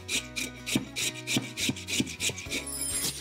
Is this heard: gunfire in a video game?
no